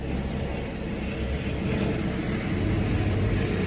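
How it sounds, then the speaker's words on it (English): A helicopter flies overhead, a steady, loud low rumble that holds throughout and swells slightly toward the end. "That's a helicopter."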